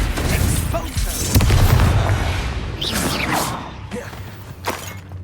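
Blasting-curse explosions and magical whooshes in the video game Hogwarts Legacy, a loud booming burst followed by scattered shattering pops and swishes over a rumbling battle background.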